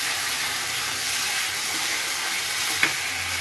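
Paneer lababdar masala frying in oil in a pan, a steady close hissing sizzle throughout, with one brief clink of a utensil near the end.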